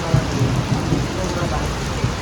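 Heavy rain pouring steadily over wheat fields in Punjab during harvest, a dense continuous hiss with low rumbling underneath, loud and close throughout.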